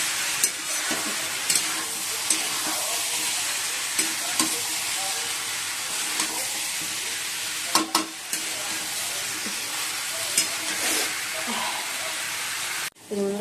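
Flattened rice and potatoes fry in a home kitchen pan with a steady sizzle, stirred by a spatula that scrapes and taps now and then; a voice speaks over it at times.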